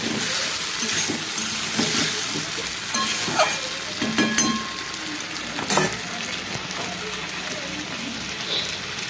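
Masala and potatoes frying in a pan as water goes in, a loud continuous sizzle with stirring clinks and bubbling simmer, a few brief louder bursts.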